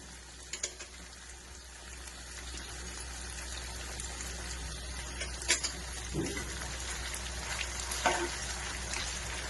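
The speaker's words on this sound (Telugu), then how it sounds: "బంగాళదుంపను, మటన్ ఫ్రై చేసుకోవాలి" Mutton and potato pieces frying in a pan, a soft steady sizzle with faint bubbling and occasional spatters and scrapes, quiet and close without talking.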